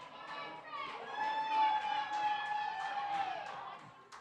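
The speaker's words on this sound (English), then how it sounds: "Listen to that crowd." Spectators at a college Pi Day pie eating contest cheering and shouting excitedly, a mix of adult and children's voices rising and falling in a lively, moderately loud burst.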